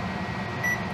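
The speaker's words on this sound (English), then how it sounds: "I'm gonna stick them in the microwave to defrost" A microwave oven defrosts frozen food with a steady, low electrical hum, and a short high beep-like tone sounds partway through.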